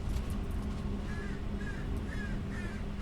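Crow perched outside a window cawing in a rhythmic run of four or five calls, fairly faint and distant over low steady background noise, no one speaking.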